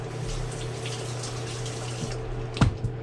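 A spoon is rinsed under a running kitchen tap while making jelly, giving a steady low hiss of flowing water with a brief louder splash near the end, no talk.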